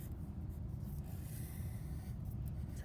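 A pen traces over pencil lines of a flag drawing on paper, a steady soft scratching and rubbing that runs continuously, close and quiet.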